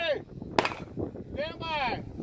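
One sharp gunshot cracks at a steel shooting championship, aimed at steel target plates. Voices talk around it and there is a little outdoor wind.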